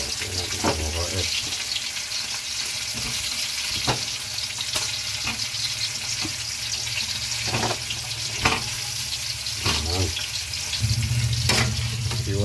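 Papait leaves go into a pan with fried tilapia and sizzle steadily throughout, with scattered clinks and scrapes of a stirring utensil over the constant frying hiss.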